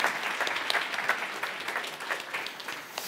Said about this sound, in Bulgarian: Аплодисменти за Ивайло, дами и господа.